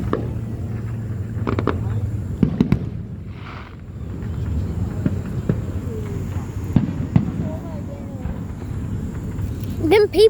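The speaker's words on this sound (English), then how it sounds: "Them people over there are trying to compete with the city fireworks." Fourth of July fireworks boom and crackle in scattered bursts at some distance, several sharp reports spread through the stretch, with people talking and reacting nearby.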